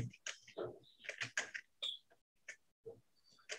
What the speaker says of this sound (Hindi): दोबारा से टाइपिंग स्टार्ट करें